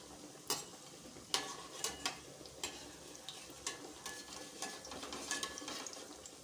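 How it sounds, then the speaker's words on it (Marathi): A breakfast snack frying in oil in a pan after being flipped to its other side, with a steady close sizzle broken by several sharp scraping and clattering spatula strokes. "तर दुसऱ्या साईडने सुद्धा पलटवून छान असा तळून घेऊया आपण"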